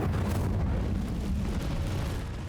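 An Incendio fire spell cast in the video game Hogwarts Legacy: a loud, sustained whooshing burst of flame that fills the short moment and tails off slightly at the end, with no talk.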